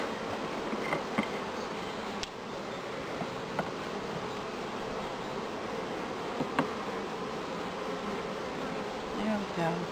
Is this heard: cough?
no